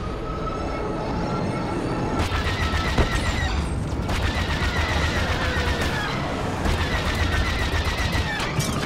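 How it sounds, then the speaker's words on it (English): A starfighter in Star Wars Battlefront 2 firing missiles during a space battle, a dense roaring, crackling barrage of rapid launches and blasts over constant engine rumble, loud and continuous. "Firing missiles."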